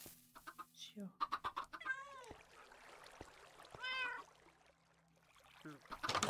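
Chickens clucking in Minecraft, repeated rapid clucks and a couple of longer squawking calls, loud and close with quieter gaps between bursts.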